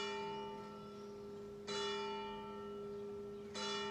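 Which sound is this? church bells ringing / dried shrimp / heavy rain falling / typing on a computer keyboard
church bells ringing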